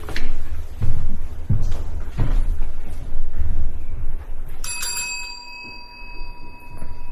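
A servant's bell gives one bright, ringing chime that hangs and slowly fades, heard partway through a stage scene in an amateur theatre performance, after a stretch of thumps and stage noise.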